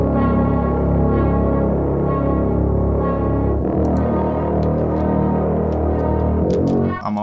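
Bright, brassy synth chords ring out loud and sustained over a dark atmospheric pad, shifting to a new chord partway through, with no voices.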